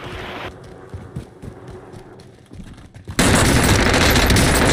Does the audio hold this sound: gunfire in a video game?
yes